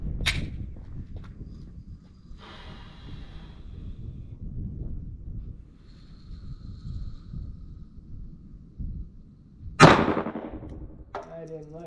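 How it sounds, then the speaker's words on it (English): .380 ACP 57 grain Interceptor rounds fired from a handgun: one sharp, loud report near the end, with a few fainter clicks and handling noises before it. "this is going to be that 57 grain interceptor, and we're going to shoot that bottom left"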